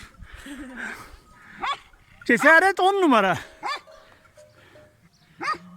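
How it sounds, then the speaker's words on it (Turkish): A sheepdog barks and yips a few times at close range during sheep shearing in a highland pasture, mixed in with people talking and calling nearby. "Bak köpek görüyor musun işte?"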